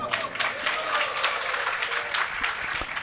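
Audience clapping during a Hindi spiritual discourse on Chaturmas and Varshayog: a steady wash of scattered applause fills the whole stretch at moderate level, with no clear voice over it.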